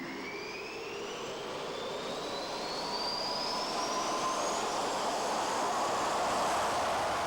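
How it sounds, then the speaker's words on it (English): A Dassault Mirage 2000N K1 jet fighter of the 4th Fighter Wing, carrying an ASMP air-to-ground missile, roars steadily with a broad turbine rush and a whine that climbs in pitch, growing slightly louder throughout with no talk. "This aircraft of the 4th Fighter Wing, armed with an ASMP or medium-range air-to-ground missile, is one of the 25 Mirage 2000N K1s"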